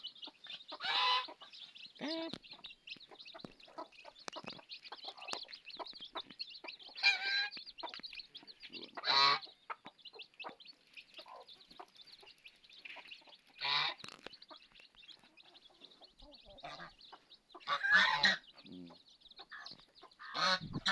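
A flock of waterfowl honking and quacking repeatedly over a constant high hiss, calls coming in irregular bursts, some near and loud, others fainter.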